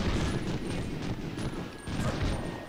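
Rapid machine-gun fire in the World War II shooter Medal of Honor Underground, a dense continuous burst of overlapping shots with a brief lull midway, close and loud.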